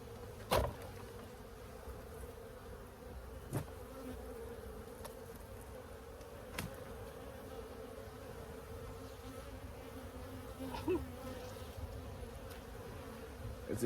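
Bees hum in a low steady drone around a hive built inside a tire, heavy with pollen and brood, with a few brief knocks and bumps breaking through the buzzing.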